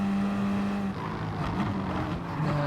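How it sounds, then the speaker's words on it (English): Two Porsche Gr.3 race cars battle closely at Lago Maggiore in the GT Sport video game, their engines droning with steady, near-constant tone and shifting pitch, no voices over them. "Close racing between 2 Porsches."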